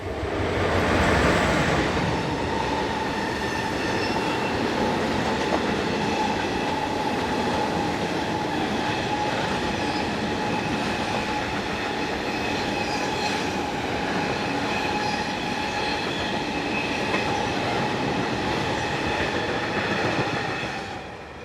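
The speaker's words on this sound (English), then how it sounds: "Here the loco heads towards Menznau, with a trip freight from Langenthal on the 4th of February 2011." A Swiss Re 6/6 electric locomotive hauls a trip freight train from Langenthal toward Menznau, a loud, steady rumble with rolling wheel noise and a faint squeal held throughout at close range.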